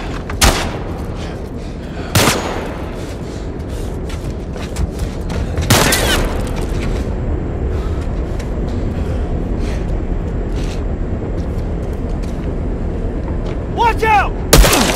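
Gunfire in The Last of Us Part 1 as several sharp, loud shots ring out at irregular intervals, including a shotgun blast, over a steady low ambient rumble.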